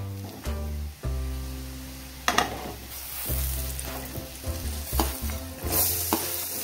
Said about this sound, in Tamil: இப்போ இதை போட்டு நல்லா வதக்குங்க. இது நல்லா வதங்கணும்.